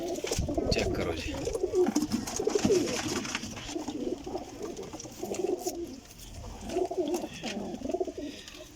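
Pigeons coo in repeated low, throaty bursts close by, with a voice talking intermittently underneath.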